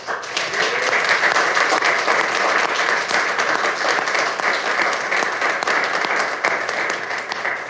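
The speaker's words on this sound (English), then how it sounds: "Please give Chef Michael a big round of applause." A city council meeting audience in Greer, South Carolina breaks into sustained applause, loud and dense, continuing steadily with no talk over it.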